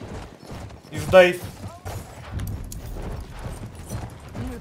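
Horse hooves clip-clop in the video game Battlefield 1, a short burst of galloping mixed with game noise while players talk over it.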